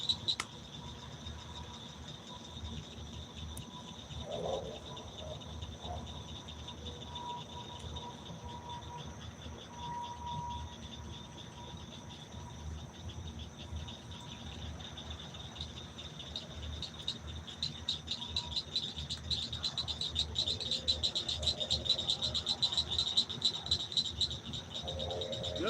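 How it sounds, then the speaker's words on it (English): Crickets and frogs at night at a catfish fishing spot, a dense, steady chorus of shrill insect trilling and scattered croaks that keeps going for the whole stretch with no talk over it. "Just listen to the crickets and the frogs."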